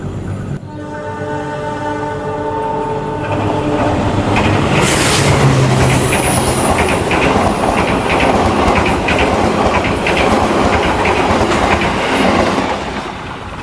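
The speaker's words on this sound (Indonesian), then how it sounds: "Komuter lain Supas Pro melintas langsung stasiun Porong." A commuter train runs straight through Porong station without stopping, a loud, close, sustained roar with rattling wheels and clickety-clack as the cars rush past, a horn tone sounding at the start.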